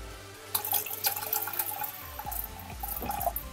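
Water poured into a cooking pot set on the stove, a continuous splashing gurgle with scattered drips, close and moderately loud, with no talk over it.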